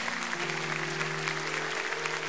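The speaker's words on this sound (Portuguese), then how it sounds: "Pode aplaudir a Jesus." Steady congregational applause fills a Sunday church worship service, dense and continuous throughout, with sustained low keyboard or organ tones holding underneath.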